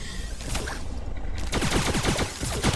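Twin machine pistols fire non-stop in Starbound, fast rapid bursts of gunfire that break briefly and then resume, loud and close with a long rattling stream near the end.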